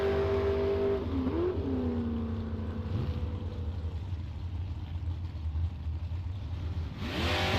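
Dragsters at a bracket drag racing event run down the strip, a steady roaring engine drone with rising and falling tonal sweeps, fairly loud and continuous, with a burst of brighter noise at the end.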